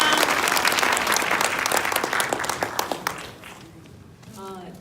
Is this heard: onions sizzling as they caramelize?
no